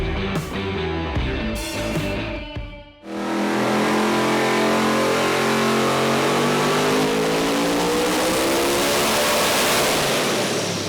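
A street car on a dyno at Summernats gives a few short, sharp revs, then a brief lull, then one sustained full-throttle run that climbs steadily in pitch and stays loud and close to the end.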